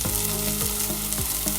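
Potato and fenugreek curry with chili powder being stirred in a pan, giving a loud continuous sizzle with repeated scraping sweeps of the spoon roughly every third of a second, close up and without talk.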